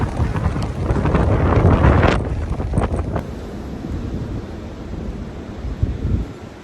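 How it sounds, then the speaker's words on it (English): Strong wind gusting around a farm, roaring and buffeting against the microphone in loud surges that ease off and then rise again. "This is some of the windiest wind we've had here in a long time."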